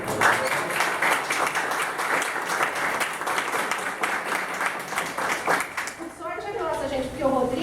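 An audience at a lecture applauds to welcome the speaker, a dense burst of clapping that fades near the end as a voice begins speaking.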